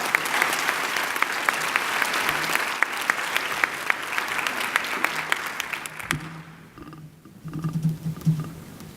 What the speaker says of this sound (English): I just want to give a great round of applause.